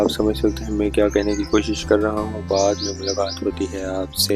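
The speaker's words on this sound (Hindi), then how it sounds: "चिड़ियाँ चहचहा रही हैं" Small birds chirp and tweet in quick bursts outdoors, scattered through a man's nearby speech that runs over most of the clip.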